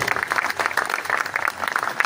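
A room of people clapping at a training centre gathering, a brief dense patter of many hands, moderately close and even, lasting only a couple of seconds.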